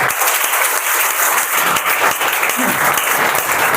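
Loud, dense applause from a seminar audience, a continuous roar of clapping hands filling the whole stretch without talk.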